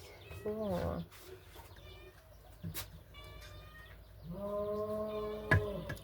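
A cat meowing repeatedly up close, several drawn-out cries with short pauses between, while a person's voice is heard faintly in the background.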